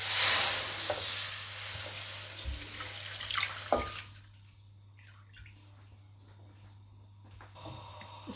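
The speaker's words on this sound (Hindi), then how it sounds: "इसके अंदर दूध डाल देते हैं।" Milk poured into a wok on the stove for homemade ice cream, a soft watery splashing and pouring in the first four seconds, then it quiets to a faint background hum with small clinks.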